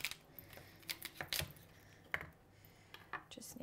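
Knife cutting a fennel bulb in half on a cutting board, a quiet series of close, crisp taps and crunchy cuts spaced irregularly.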